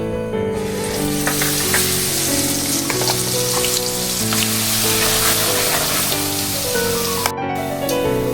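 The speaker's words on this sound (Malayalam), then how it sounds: "കുറച്ച് വെളിച്ചെണ്ണ ഒഴിച്ച് ഈ മസാലക്കൂട്ടൊന്ന് വഴറ്റിയെടുക്കാം." A masala mix sautés in hot coconut oil, a loud dense sizzle that crackles evenly throughout, while music plays steadily underneath and briefly cuts out near the end.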